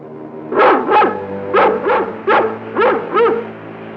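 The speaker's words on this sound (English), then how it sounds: "That sounds like King's bark" A dog barks loudly and close by, six sharp woofs in quick uneven pairs, with no voices over them.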